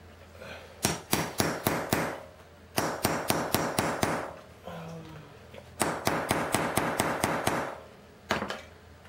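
Several bursts of sharp, ringing hammer blows on knife-scale cosplay armor, each a rapid run of four to six strikes, separated by brief pauses with faint talking.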